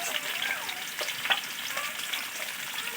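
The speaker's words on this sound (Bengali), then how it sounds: "একটু হলুদ গুঁড়ো দিয়ে দেবো আলুটাকে লাল লাল করে একটু ভেজে নামিয়ে নিতে হবে" Potatoes seasoned with salt and turmeric fry in a pan with a steady, close sizzle, broken by a few brief stirring scrapes and clicks.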